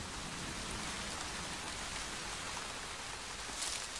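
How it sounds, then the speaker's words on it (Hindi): Light pre-monsoon rain falls steadily in a forest, a soft, even hiss of drops on leaves and surfaces, fairly faint and unbroken, with no voices. "ये मॉनसून से पहले की बारिश है, वैसी मूसलाधार बारिश नहीं जिनका इन्हें इंतजार है"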